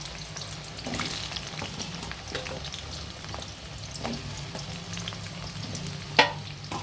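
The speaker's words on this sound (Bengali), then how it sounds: "প্রথমে এর জন্য আলুগুলোকে আমি ভালো করে ভেজে নিচ্ছি" Potatoes fry in hot white oil for a prawn curry, a close, steady crackling sizzle broken by stirring scrapes, with one sharp pop near the end and no voices.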